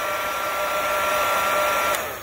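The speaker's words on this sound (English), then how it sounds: "the next step is to just take the hair dryer again" A hair dryer blows steadily, warming the painted body panel of a BMW where a badge has been removed, a loud, even fan whine and airy rush held close for a couple of seconds.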